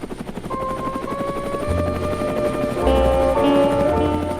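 A helicopter's rotor chops steadily overhead, its thumping beat and whining engine growing louder and nearer toward the end.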